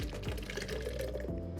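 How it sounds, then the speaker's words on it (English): Hot raspberry hot sauce poured from a pan into a blender, a steady liquid splashing and gurgling stream lasting under two seconds, close and fairly loud with no talk. "So we're just gonna take this and carefully pour it into our blender."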